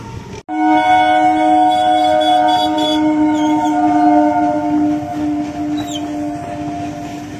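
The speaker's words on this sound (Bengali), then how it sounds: "গেট পড়ে আছে ট্রেন যাচ্ছে" A train rolling past a closed level-crossing gate, with a loud sustained tonal horn-like drone and rumbling wheel noise close by, no talking over it.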